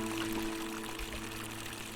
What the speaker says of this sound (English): Fountain producing fresh water, but where could the water be coming from?